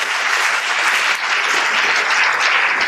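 Sustained applause from a high school assembly audience at Mont'Kiara International School, a dense, even roar of many hands clapping that holds steady and loud throughout.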